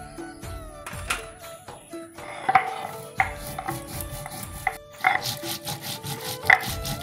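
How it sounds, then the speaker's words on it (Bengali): Cumin seeds are ground on a flat grinding stone, the stone scraping and rubbing back and forth in an uneven rhythm with occasional sharper knocks, close and fairly loud. "দেওয়ার জন্য জিরা বেটে নেব।"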